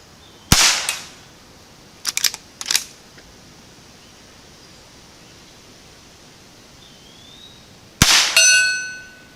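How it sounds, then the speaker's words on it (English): A Henry rifle fires CCI quiet ammo at steel targets outdoors: a sharp crack near the start, a quick double burst of clanks around two seconds, then another crack with a ringing steel ping after a long quiet gap. "this is quiet ammo. I think I told you that, but that's what we were shooting, the CCI quiet"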